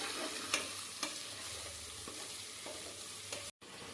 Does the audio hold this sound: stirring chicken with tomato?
yes